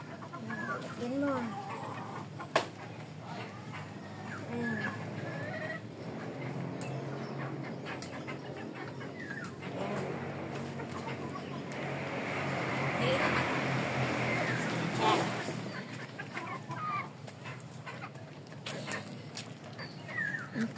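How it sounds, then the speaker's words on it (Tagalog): Backyard chickens cluck and chatter just after feeding, several hens close by with irregular clucks and short calls throughout, over faint mechanical rattles and a brief voice. "Okay, so done na po tayo magpakain sa ating mga manok."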